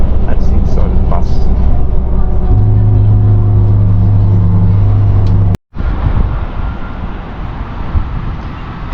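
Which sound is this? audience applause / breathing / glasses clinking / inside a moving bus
inside a moving bus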